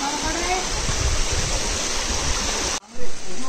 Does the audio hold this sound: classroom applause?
no